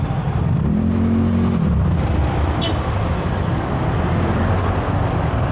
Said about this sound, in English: traffic is already backed up.